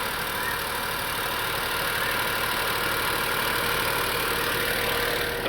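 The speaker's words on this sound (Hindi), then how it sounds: "ये गाड़ी की इंजन नॉइस है अभी लाइव कितनी आ रही है" A turbocharged engine in a Tata Nexon CNG runs at a steady idle under an open bonnet, giving off an even, close hum with no talking.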